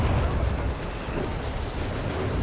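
Artillery pounds a Company of Heroes 3 battlefield between German and Allied forces, a dense, continuous roar of blasts and gunfire with no clear gaps.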